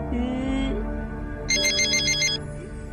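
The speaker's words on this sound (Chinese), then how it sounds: "不是我电话，是你电话。" A mobile phone ringtone plays loudly and close, a bright melodic tune with a burst of higher chiming notes partway through, heard alone without talk.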